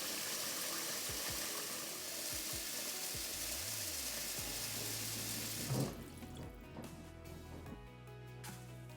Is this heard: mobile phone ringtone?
no